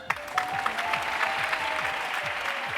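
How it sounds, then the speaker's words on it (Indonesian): Studio audience applause on an Indonesian TV variety show, a continuous even patter of many hands clapping throughout, moderately loud with a faint tonal hum underneath. "Boleh tepuk tangan dulu."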